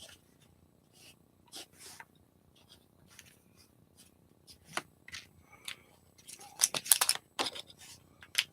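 Quiet, intermittent snips of scissors cutting paper, a few isolated cuts early and then a denser cluster of crisp snips near the end.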